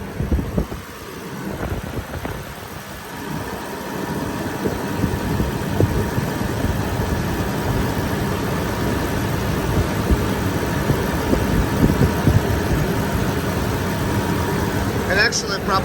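A 2006 Range Rover Sport HSE with an overheating problem and a radiator fluid leak idles steadily with the hood open, a continuous mid-pitched engine hum close by that holds level for the whole stretch.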